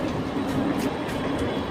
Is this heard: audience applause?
no